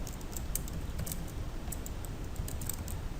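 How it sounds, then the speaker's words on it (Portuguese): Computer keyboard keys clatter in quick, uneven bursts while someone enters data into an Excel spreadsheet, close and moderately soft over a faint steady background hum. "Aqui eu vou estar digitando nota"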